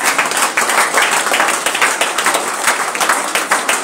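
A church congregation claps hands in a steady, continuous rhythm, many hands together, loud and close with a few faint voices underneath.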